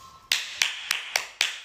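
Five sharp, separate claps at a slow, even pace, close and crisp with brief decays and quiet gaps between them.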